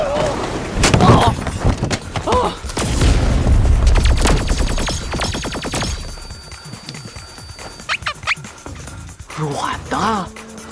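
Explosions and gunfire erupt in a superpower fight scene, with loud, dense bursts of blasts and cracks in the first half, then scattered sharp hits. Voices speak intermittently throughout.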